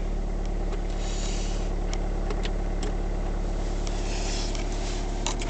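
A Ford diesel engine idles steadily just after a cold start at -22 degrees, a constant low mechanical rumble heard close and alone with no talking.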